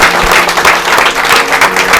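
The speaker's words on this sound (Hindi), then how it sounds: "let's give a mighty clap to God" A church congregation applauds God with steady, dense clapping that continues loud and unbroken throughout.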